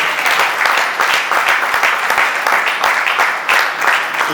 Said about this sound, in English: I think we should clap for them once again